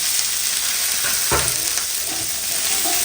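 Small shallots hit hot oil and fry with a loud, dense sizzle that stays constant and close, with a brief scrape of a spoon stirring them partway through.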